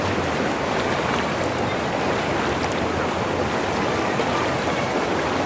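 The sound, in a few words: flowing river water near a waterfall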